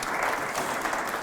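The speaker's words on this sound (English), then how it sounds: "round of applause for Graham" A regenerative agriculture conference audience gives a round of applause for a CEO, a brief burst of dense, even clapping from a sizable crowd that continues without a break.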